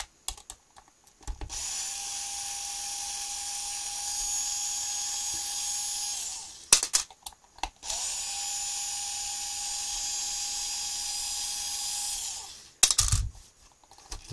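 A small electric screwdriver or drill whirs steadily in two long bursts of about five seconds each, removing small screws from the chassis of a Team Associated MT8 RC truck during disassembly, with short clicks and handling noise between runs and no talk.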